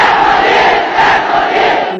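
A large crowd chants the Joy Bangla slogan together in played-back footage, loud and continuous, with voices rising and falling in unison throughout.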